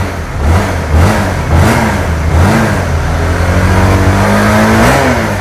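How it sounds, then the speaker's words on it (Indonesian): A Kawasaki Ninja SS sport motorcycle engine starts, idles loudly up close and is revved in repeated throttle blips, the pitch climbing and falling. "Langsung saja aku cek soundin untuk suara mesin motor ini ya."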